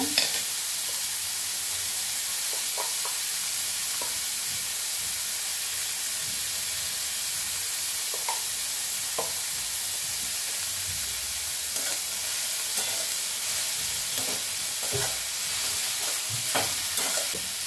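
Banana stem stir-fried with onion and salt in a pan gives a steady, close sizzle and hiss, with scattered scraping stir strokes of the spatula throughout.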